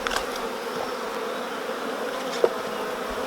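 Agitated honey bees buzz at an open beehive during work on honey super frames, a continuous, fairly soft droning hum with no voices.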